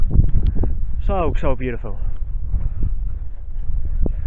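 Strong wind buffets the microphone on open, rugged Dartmoor moorland, a constant low roar throughout while someone speaks briefly over it.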